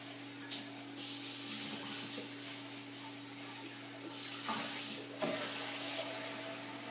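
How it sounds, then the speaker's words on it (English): Tap water runs steadily into a lye container while making Black Briar Rose soap. The hiss is constant and fairly quiet, with brief surges and small clinks, and no voices. "I like to get my lye container just full of water so it a little bit safer"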